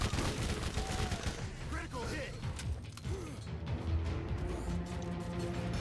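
Enemy gunfire in Borderlands GOTY Enhanced, rapid bursts of shots and mechanical clatter rattling steadily for several seconds, with game effects mixed in and a voice speaking underneath.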